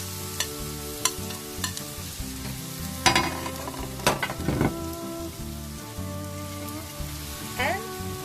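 Squid and vegetables stir-frying in a pan for spicy stir-fried squid, a soft steady sizzle with scattered clicks and scrapes of a utensil stirring, no voices.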